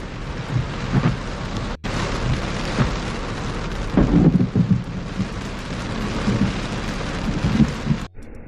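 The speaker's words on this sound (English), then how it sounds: "Those cloud ground lightning strikes. That was one right there." Thunder from cloud-to-ground lightning strikes during a July storm in San Antonio rumbles through steady heavy rain and gusting wind, with a louder close crack and roll in the middle.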